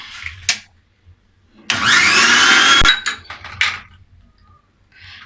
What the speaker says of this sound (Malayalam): ഇത് നമുക്കിങ്ങനെ മിക്സിയിൽ നിന്ന് അടിച്ചെടുക്കാം